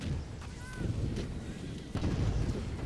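Artillery booms from the Toy Soldiers video game, with a zeppelin and landship tank in play. Heavy low thuds come in bursts at a moderate level, with a louder blast near the end and faint whistling tones between.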